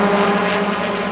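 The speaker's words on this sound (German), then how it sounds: "Über ihm fliegt der Hubschrauber." A helicopter passes overhead during a 1986 Formula Easter E1300 motor race at the Schleizer Dreieck circuit, producing a loud, steady, tonal droning roar with no break.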